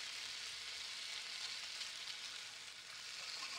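Food sizzles steadily in a frying pan in the Cooking Simulator video game, a dense, even hiss that continues unbroken throughout with no talking.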